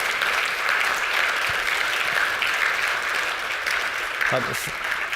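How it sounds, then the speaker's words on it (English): Audience applause for event facilitators at a closing session, a steady wash of many hands clapping that holds evenly throughout without breaks. "I think another round of applause for our facilitators"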